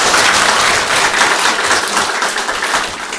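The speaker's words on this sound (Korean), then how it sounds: "박수로 환영하겠습니다." Church congregation applauding to welcome a new educator, a loud, continuous burst of many hands clapping close and full throughout.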